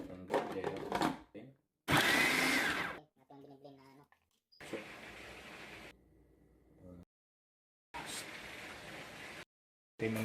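A blender whirs in several short bursts separated by pauses, loud and close, with brief gaps of near silence between runs.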